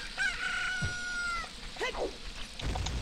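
A cucco from Ocarina of Time gives a drawn-out crowing cluck followed by shorter squawks, fairly loud over game background noise.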